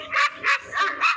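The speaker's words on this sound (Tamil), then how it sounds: "நாய் சவுண்டும் வரும்" Four evenly spaced dog barks from a sound effect triggered by a Google search trick, clear and close with short gaps between them.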